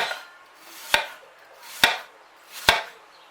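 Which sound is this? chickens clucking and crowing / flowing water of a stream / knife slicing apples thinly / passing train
knife slicing apples thinly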